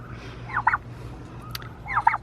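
Two short bursts of turkey gobbling, about a second and a half apart, sound at moderate distance over a low steady hum, with no voices.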